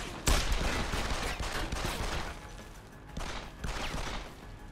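Gunfire in the stealth action game Deus Ex: Human Revolution, with a sharp shot at the start followed by a dense, sustained spread of firing and combat noise that swells and eases, close and loud.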